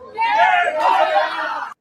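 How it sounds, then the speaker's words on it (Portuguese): Novo Horizontino football fans protesting with a loud crowd roar of shouting and chanting at a stadium, a dense sustained swell of many voices lasting under two seconds. "Gritos de vergonha, né?"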